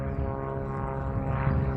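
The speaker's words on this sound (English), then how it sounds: "Oh, I can hear an aeroplane." A propeller aeroplane passes overhead in the open countryside, a steady, rumbling engine drone that holds at moderate loudness for the whole stretch, with no voices over it.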